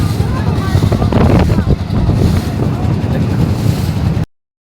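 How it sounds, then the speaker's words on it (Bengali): Waves slap and wash across a haor wetland lake, heard close and loud under heavy wind buffeting the microphone, cutting off abruptly near the end. "প্রচুর ঢেউ হয় এই দেখেন আজকে অনেক ঢেউ"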